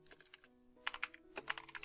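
Quick, quiet typing on a computer keyboard, two clusters of light key clicks separated by a short pause.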